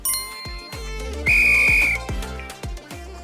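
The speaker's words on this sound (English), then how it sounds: "Next, we need a whistle." One sharp, shrill whistle blast lasts about half a second, sounding over bouncy background music with a steady beat.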